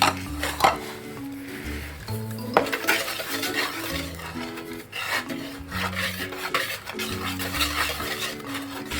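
Plain flour and dry ingredients are mixed in a bowl, a close rhythmic scraping and rubbing of a utensil against the bowl in repeated strokes, with faint background music.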